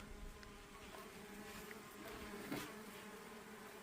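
Bees buzz steadily around several village beehives during a summer harvest, with pollen being gathered; a continuous, fairly faint droning hum with a slight swell near the middle and no talking.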